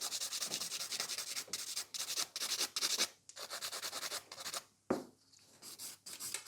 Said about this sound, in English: Filing those corners is always the most difficult task